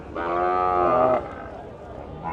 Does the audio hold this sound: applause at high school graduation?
no